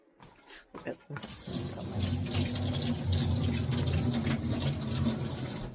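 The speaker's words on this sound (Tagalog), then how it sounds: "Maghugas muna tayo ng kamay." Water runs from a kitchen tap for handwashing, a dense steady splashing that starts after a second of quieter sound and continues loudly to the end.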